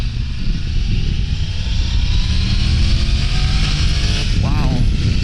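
A 2023 Triumph Tiger 1200 Rally Explorer motorcycle engine drones steadily while riding, its pitch shifting with rpm under loud wind rush, and a voice speaks over it.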